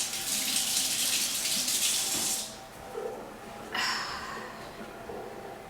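A kitchen tap runs water to wet fingers, a steady close hiss that cuts off briefly, then gushes again more softly before trailing away.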